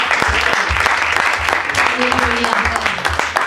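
A church congregation breaks into sustained, dense applause with scattered cheering voices mixed in, filling the room evenly throughout.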